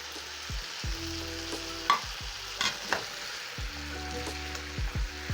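Fries being stirred into a beef stir-fry sauce in a pan, with soft repeated scraping strokes and a few sharper clinks over a faint sizzle, close and continuous.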